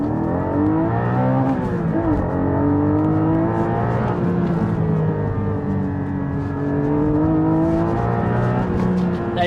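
A 2022 Porsche GT4 sports car driven hard through corners, its engine loud and close from inside, revs climbing and dipping with gear changes and throttle lifts between bends.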